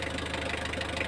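A Mitsubishi 4D56 diesel engine idling with a steady, even clatter, close and continuous, heard alone without voices.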